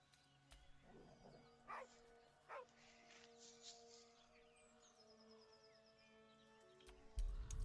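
A dog in the video game Baldur's Gate 3 whimpers and gives a few short yips and whines, spaced over several seconds, fairly soft under a low ambient bed, with a louder thump near the end.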